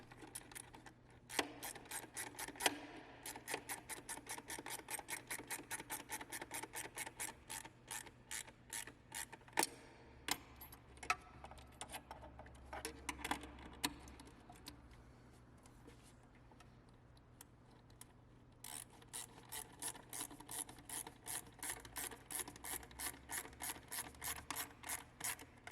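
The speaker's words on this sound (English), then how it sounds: "Then I'm going to use one of these nice ratcheting wrenches to tighten all three of the nuts." A ratcheting wrench tightens the three nuts holding an industrial sewing machine motor to its table, rapid bursts of sharp metallic clicks in steady rhythm, close up, pausing midway before resuming, with no talk.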